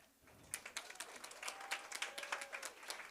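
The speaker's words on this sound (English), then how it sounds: "I want to hear claps for that." An audience claps at a talk on the collective struggle of Bangladesh and Palestine. The applause builds quickly into steady, scattered clapping from a modest crowd and is heard on its own without speech.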